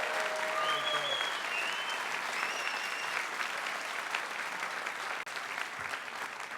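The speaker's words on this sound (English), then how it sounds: "My producer says he wants some applause" A studio audience at a live radio show taping claps continuously for several seconds in a dense, even wash of applause, with a few faint whistles and murmurs mixed in.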